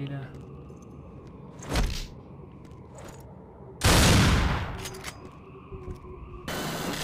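Gunfire and explosions in the Xbox shooter Black (2006): a loud blast-like burst near the start, a bigger sustained roar of fire midway, and another burst at the end, over a steady rumbling battlefield bed.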